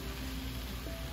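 Cooked eggs and sautéed bitter gourd being stirred in a pan, with a soft, steady sizzle, a few light scraping and tapping sounds near the end, and no talking.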